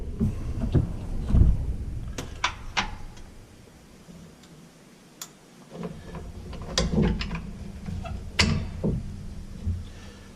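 Metal clicks and ratcheting from a wrench turning a bolt on a 2006 Bluebird Vision school bus alternator, scattered sharp ticks and clanks over a low background rumble, with no talking.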